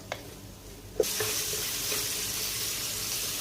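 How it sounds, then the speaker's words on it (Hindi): Onion, grated ginger and chopped green chili hit hot oil on a high flame, with a sharp splash at the start and then a steady, loud, broadband sizzle that continues unbroken to the end, with no voices. "ये सारे मसाले को हम लाइट सा गोल्डन करेंगे हाई फ्लेम के ऊपर।"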